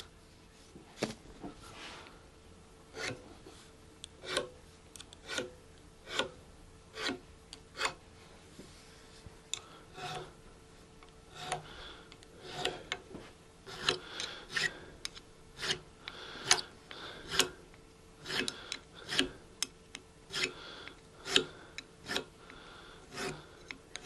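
Short strokes of 600 grit sandpaper across guitar frets during a re-fret, a dry rasping scrape repeated in a steady rhythm, close and fairly quiet with brief pauses between passes.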